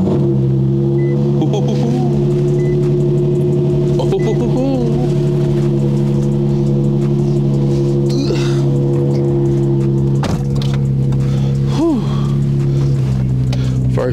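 A 2000s-era Infiniti G35 engine idles with a steady low hum and faint rumble right after starting, heard up close, while someone talks over it throughout.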